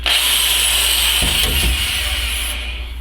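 A power drill with a wobbly bit whines steadily at close range while installing a trailer brake controller in a 1963 Chevy C30, its pitch wavering with a brief rattling stretch in the middle before it winds down.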